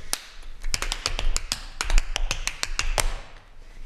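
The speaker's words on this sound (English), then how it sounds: "now I do a step that people who don't know how to tap dance sounds really fancy to" Tap dance steps by a stage performer ring out as a quick run of crisp, sharp taps with irregular, syncopated rhythm, close and clear with no talking.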